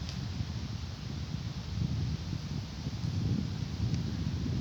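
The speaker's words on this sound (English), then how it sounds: "Oh, wind took the camera there. Yeah, the wind is starting picking up" Wind buffeting a camera microphone outdoors, a steady low rumbling gust that swells slightly, with no speech.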